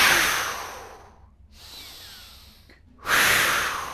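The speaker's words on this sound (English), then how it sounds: "I'm gonna be forceful with my breath as well, right? So you're gonna be forcing it out every time and breathing in really hard as well." Forceful breathwork exercise: a hard, rushing inhale followed by a long fading breath, a near-silent pause, then another sharp, loud forced exhale, close to the microphone with no talking.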